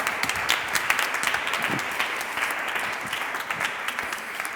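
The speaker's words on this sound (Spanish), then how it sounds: "un aplauso igual, que viene de Andorra" An audience claps steadily throughout, a loud, even wash of applause with individual claps standing out now and then.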